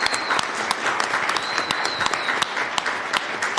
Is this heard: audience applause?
yes